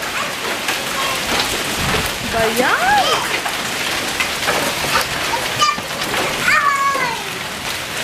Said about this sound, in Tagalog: Mga yelo. Ang laki nito